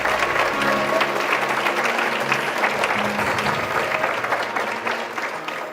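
Applause rises from the audience at a national office bearers and active workers conference, loud and close with dense crisp claps, accompanied by faint sustained tones underneath, tapering gradually over about six seconds.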